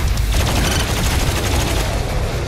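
The BFG 10,000 superweapon firing in DOOM Eternal, a loud, continuous thundering barrage with rapid pulsing bursts over a deep rumble.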